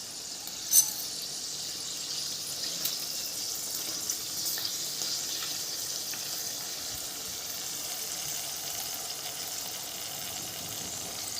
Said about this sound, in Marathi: तुम्हाला ही चकली मी तळून दाखवणार आहे.